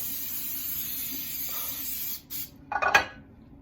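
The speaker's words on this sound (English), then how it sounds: "So I'm just gonna spray this." A spray bottle's steady hiss runs for two seconds, then stops, followed by a couple of short clattering knocks close by.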